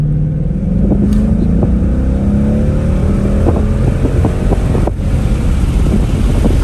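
A new car's engine runs steadily while driving, a continuous loud drone with rising pitch as it accelerates, wind noise buffeting the microphone throughout, and no voices.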